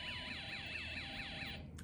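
A toy electronic circuit's shrill alarm warbles up and down in a fast, steady siren-like cycle, continuous and fairly loud, cutting off abruptly at the end.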